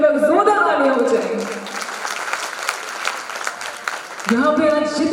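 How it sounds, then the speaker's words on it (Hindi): Audience at an awards ceremony claps loudly in a sustained burst, with a presenter's amplified voice speaking over the applause at the start and again as it fades near the end. "एंड साथ ही हमारे टीटी के director wing commander Anoop Mehrotra sir के लिए जोरदार तालियां हो जाए"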